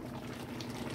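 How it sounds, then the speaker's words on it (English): Curry fish head in coconut milk boils hard in a pot on the stove, a steady, dense bubbling and churning of liquid heard up close with no talk. "Look at all that bubbling."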